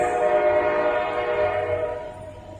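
A westbound Norfolk Southern train rolls past the Rutherford Street crossing through a rail yard, its horn sounding a loud sustained chord over the rumble of the cars, fading slightly toward the end.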